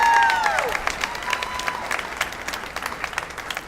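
Applause from an awards-show audience honoring a state champion baseball team, dense clapping that starts loud with a brief whistle or cheer at the start, then settles into steady, slowly fading clapping across the room.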